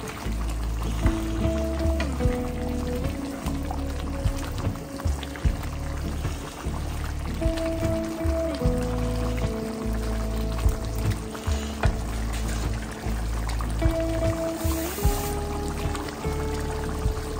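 Water is poured into a pot of Jamaican curry chicken, a close gurgling stream whose pitch rises in repeated steps as the level climbs, running steadily for a long stretch with no talk.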